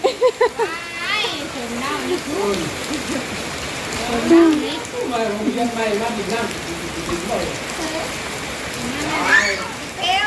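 Steady rain patters on a surface throughout, with children and adults talking and calling out over the downpour.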